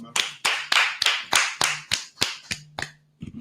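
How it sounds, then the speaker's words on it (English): About ten sharp, close claps ring out in a steady beat, slowing toward the end before stopping, with a faint low tone underneath. "Let's give it a round of applause."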